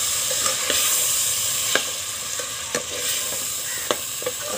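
Tomatoes stir-fried with turmeric and coriander powder sizzle steadily in a pan while a spoon taps and scrapes at irregular intervals, close and with no voices.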